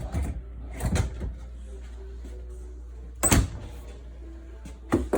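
Pantry drawers in a 2019 Forest River Cardinal RV, heard as several close thumps and rolling slides of drawers opening and closing, with short quiet gaps between them.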